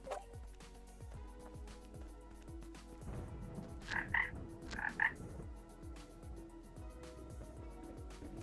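Frogs croak in a video game, two paired croaks a second apart standing out over a steady ambient background with rhythmic low pulses.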